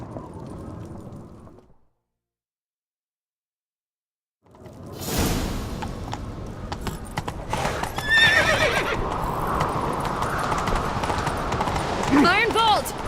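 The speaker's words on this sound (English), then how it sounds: "Grab a horse, we'll chase him down." Horse hooves clip-clop and a horse whinnies in The Witcher 3, with whooshing movement and voices over a busy game mix after a short silent gap; a rising neigh stands out near the end.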